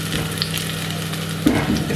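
Garlic sizzles steadily in a hot pan, a dense crackling frying noise throughout with a slightly louder burst of spatter near the end; no one speaks.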